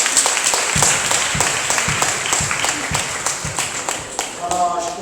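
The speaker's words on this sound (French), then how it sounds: "On peut l'applaudir." An audience applauds after thanks to Fathers André Padonou, Pierre Gaga and Georges Lumen Ouensavi, a steady, fairly loud wash of many hands clapping throughout, with rhythmic claps standing out near the front and a voice briefly rising at the end.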